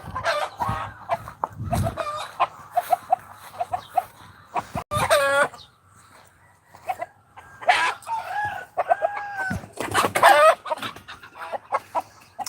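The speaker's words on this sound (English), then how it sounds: "Dumb chickens." Farm chickens cluck and squawk in repeated close bursts, with brief pauses between, and several calls overlap at times; no talk is heard.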